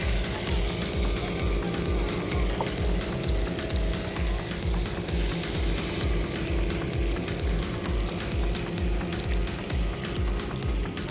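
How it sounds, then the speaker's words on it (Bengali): Fish shallow frying in a pan of oil gives a continuous, close sizzle with a steady pulsing crackle throughout, alone and without talk. "মাছটা আমরা অল্প আছে শ্যালো ফ্রাই করে নিব।"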